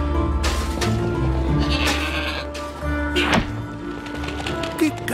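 A goat in the Trine 4 video game bleats a few times over steady background game music, the cries loud and close.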